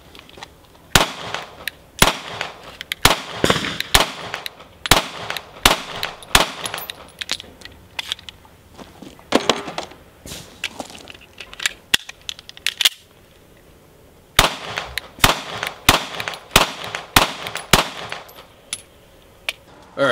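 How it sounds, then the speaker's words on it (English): A Smith and Wesson M&P45 Shield pistol with thumb safety fires two magazines outdoors, loud sharp shots in quick irregular strings, a short pause midway to change magazines, then another rapid string. "gonna go ahead and shoot both of these mags real quick"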